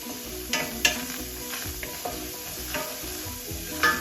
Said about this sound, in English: I'm gonna throw in the onions.